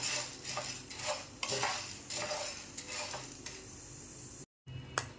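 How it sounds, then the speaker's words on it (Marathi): Dry sago pearls are stirred and scraped around a pan over a medium gas flame, giving a steady run of close, rattling scrapes and gritty rustles with a brief silent gap near the end. "साबुदाणा आपल्याला लालसर असा भाजून घ्यायचा आहे एकसारखं हलवत मीडियम गॅसवर"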